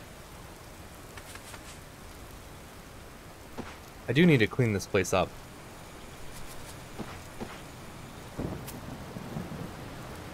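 Rain and rolling thunder of a giant storm on a tropical island in Card Survival: Tropical Island, a steady rain hiss with a loud thunder burst midway, while someone talks over it.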